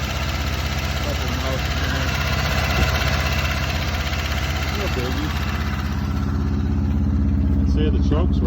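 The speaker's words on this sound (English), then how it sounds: "I'd say the choke's working. Stuck on high idle." A G-body car engine sits stuck on high idle with the choke on, running loud and steady with a constant droning rumble close by, while people talk quietly underneath.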